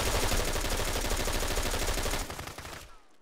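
Rapid automatic gunfire in Arma 3 during a Texas PvP event, dense repeated shots close and loud for about two seconds, then a few scattered reports fading out.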